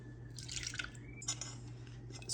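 Liquid is poured into milk in a pot for a Milky Way cake, giving a soft, close trickle and dripping with light glassy clinks, with no talking.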